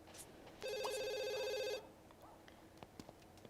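Telephone in The Sims 2 video game, giving one short burst of electronic ringing that stops abruptly, fairly quiet against faint background noise.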